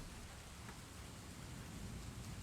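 Steady rain ambience, an even wash of falling rain with a faint low rumble underneath, continuous and unchanging without any voices.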